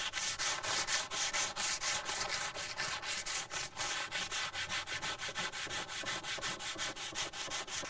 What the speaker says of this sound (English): See how easy it is to sand in this area without the latches and handle in the way.